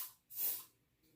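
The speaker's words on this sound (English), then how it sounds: "I'm just going to spray a little bit of this on my shirt, I guess." Uomo eau de toilette misted onto a shirt in one short, soft spray burst at close range, then quiet.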